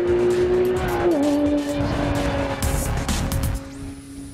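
Porsche 911 GT3 RS 4.0 on a public road, its loud engine note running steadily and stepping down in pitch as a gear changes, with rushing wind and road noise throughout, fading somewhat toward the end.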